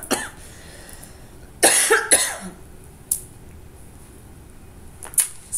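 A few sharp coughs, close and loud, with a short burst near the start, another soon after, and a couple of quieter ones later against a quiet background.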